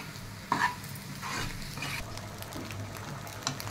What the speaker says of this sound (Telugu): మనం ఫ్రై బాగా చేయకపోతే మొత్తం అంతా నీసు వాసన వస్తుంది. కలుపుతూనే ఉండాలి మధ్య మధ్య.